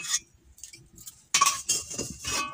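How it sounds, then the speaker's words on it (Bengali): A metal spatula scrapes around the inside of a wok as it is washed out with water: close, intermittent scrapes and clinks in short bursts, with a louder, denser stretch in the second half. No one speaks. "এবারে কড়াটা ভালো করে খুন্তি দিয়ে গোটা চারদিক জলের সাহায্যে ভালো করে ধুয়ে নেবো"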